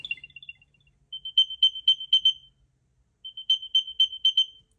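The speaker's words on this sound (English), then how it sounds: "let's play my second generation AirTag sound" A second-generation Apple AirTag plays its locating sound, rapid high chirping beeps in short bursts of about six notes separated by brief pauses, close and clear with no talking.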